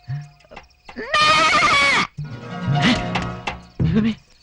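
A goat gives one loud, long, wavering bleat up close, followed by a shorter bleat, with brief speech around them.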